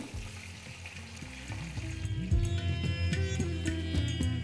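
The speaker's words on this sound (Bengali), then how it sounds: "এই মাছগুলোকে কিন্তু আপনাদের খুব বেশি লাল লাল করে ভাজতে হবে না।" Pieces of katla fish fry in hot oil with a crackling sizzle that grows busier over time, layered under a loud humming, tonal background.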